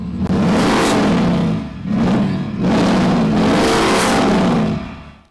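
An AI-generated supercar engine revving effect gives three loud, close surges with a whirring, rasping roar. Each surge swells and then dips before the sound cuts off.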